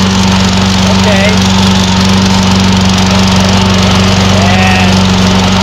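Black & Decker cordless battery-powered electric lawn mower running close by, a steady, loud motor whine and blade whir with a constant low hum, unbroken for the whole stretch.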